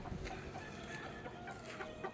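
Chickens in a small backyard coop cluck softly and steadily, with brief squawks now and then, faint and a little distant, with no talking.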